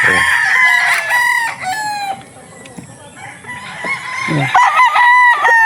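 Tornado hatch gamefowl rooster on a farm crowing loudly and close by, several drawn-out crows in a row mixed with clucking from other fowl.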